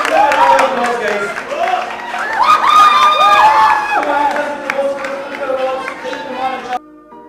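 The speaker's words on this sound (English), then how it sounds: "Give them a round of applause, guys." A lively crowd cheers and shouts loudly with scattered clapping mixed in, the noise continuing for several seconds before cutting off abruptly.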